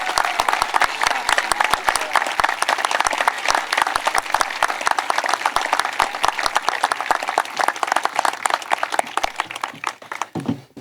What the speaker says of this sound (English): I think that deserves a round of applause again.